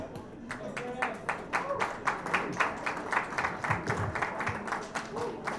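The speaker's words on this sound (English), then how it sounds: "Hold the applause, hold the applause." Applause from an audience at a keynote event as a speaker is called to the stage, with dense, steady clapping, moderately loud and continuous, with a few voices murmuring underneath.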